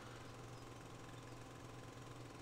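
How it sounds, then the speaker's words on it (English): A quiet small gas engine, a Briggs and Stratton in Farming Simulator 17, idles with a steady low rumble and faint knocking, even and continuous with no voices. "It's obviously a gas engine, by the looks of it."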